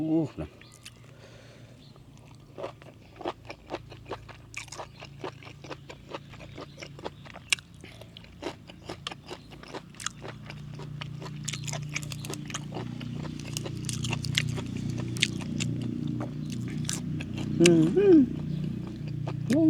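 Crunchy chewing of fresh raw beef with liver, wrapped with bitter vegetables and chili, with dense, close mouth clicks throughout and a louder, continuous rumble in the second half.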